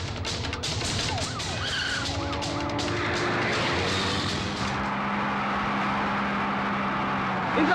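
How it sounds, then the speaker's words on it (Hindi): A police car siren wails in pursuit during a movie chase scene, its sweeping tones rising over engine roar and traffic noise before settling into a steadier drone. "मेरी बात सुनो इंद्रा, देखो पुलिस पीछे खड़ी है।"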